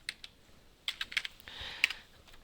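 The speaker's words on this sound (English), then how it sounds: "now I'm going to type in Trier, Germany" Fingers type a web search on a computer keyboard, producing a short burst of close, clicky keystrokes in quick irregular clusters, with no talking.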